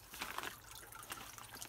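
Fish water from an aquaponics system trickles and drips steadily in a soft, continuous wash, with a few brighter splashes near the start and no talking.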